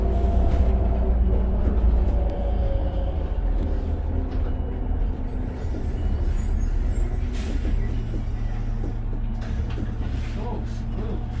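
A 2002 New Flyer D40LF city bus rides along with a low, steady engine and road drone, joined midway by the sharp hiss of its air brakes releasing.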